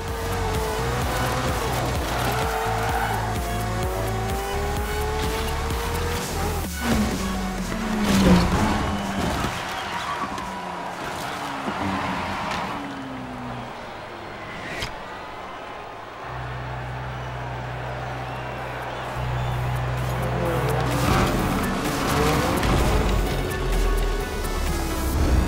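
Engine drone and shifting revs from a Lego car racing over gravel in a video game, with tonal gear changes and rumbling surface noise running continuously.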